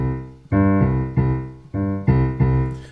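A bass plays the two-note introduction of a 1960s song, a repeated pair of sustained low notes alternating with clear attacks, close and alone with no talk.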